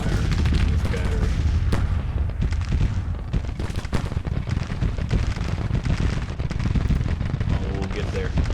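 Artillery battery firing in a Civil War strategy game: dense, continuous rumbling barrage of overlapping booms and gunfire, loud throughout with no clear gaps.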